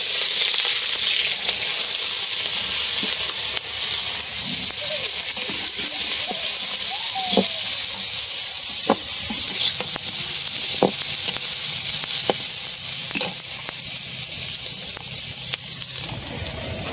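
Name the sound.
frying onion, garlic and green chili in a pan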